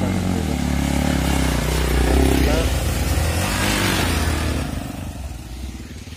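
A Yezdi Adventure motorcycle ridden offroad through water, its engine loud and close with splashing and clattering, steady before easing off near the end.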